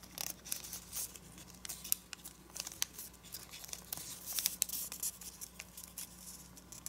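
Origami paper being folded and creased for a dragon model, with crisp crinkles, soft rustles and sharp taps coming close and steady throughout, without any talking.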